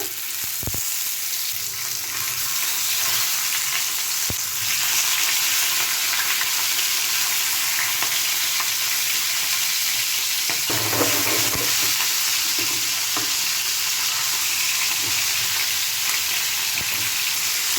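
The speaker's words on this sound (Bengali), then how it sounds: "এবার প্যানের মধ্যে আমি আস্তে আস্তে করে এক একটা পিস ছেড়ে দেবো" Chicken pieces for a peas chicken curry fry in a hot pan, a continuous loud sizzle with occasional stirring scrapes and clinks, no voices over it.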